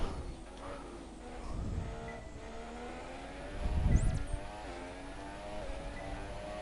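An F1 car in the F1 2017 video game brakes toward turn one at the USA circuit, its engine drone shifting pitch through layered harmonics, with a brief louder burst midway as it slows.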